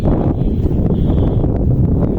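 Strong, cold mountain wind on Mt. Olis buffets the microphone in a continuous low roar, loud and steady throughout with no voices.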